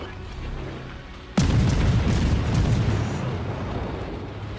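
Naval guns firing armour-piercing shells aboard the destroyer Akizuki in World of Warships, a sudden heavy boom that rolls into a long rumbling decay.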